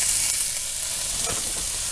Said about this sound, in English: I put one little piece in there to make sure it sizzles